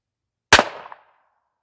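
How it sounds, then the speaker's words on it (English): A single sharp double-action shot from an H&R 676 revolver, loud and close, with a short reverberant tail fading within half a second. "now for the H&R 676, 6 shots, double action only"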